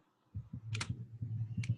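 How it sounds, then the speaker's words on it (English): Typing on a computer keyboard: a quick, soft burst of key clicks in an irregular rhythm, close by and fairly quiet. "I'm typing here?"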